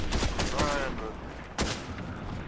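Rapid bursts of gunfire in a shooter video game, several sharp cracking shots clustered close together, loud and near, with a brief lull before another shot rings out.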